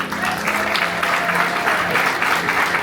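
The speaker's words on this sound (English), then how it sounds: "Give him a round of applause." A bar audience at a magic show bursts into applause, dense close clapping that holds steady and loud for a few seconds, with faint crowd murmur beneath.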